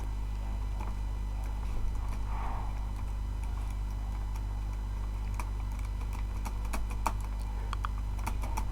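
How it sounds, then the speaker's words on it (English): Typing on a computer keyboard with a faulty key, scattered light key clicks that come in short bursts over a steady low hum, quiet and close. "I have a problem with my keyboard"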